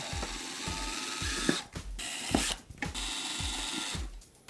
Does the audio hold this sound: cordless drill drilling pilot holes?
yes